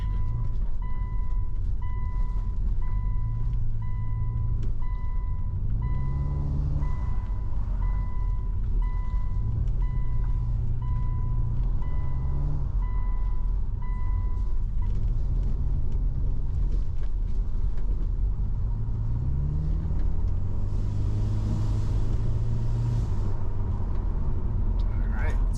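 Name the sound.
car with rebuilt Subaru EJ25 engine driving in sport mode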